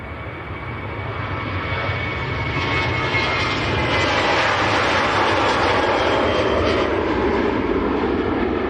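A Ryanair airliner at Manchester Airport bound for Dublin roars past, jet engine noise swelling from moderate to loud and holding as a broad rushing rumble, heard from outside at a distance without talk.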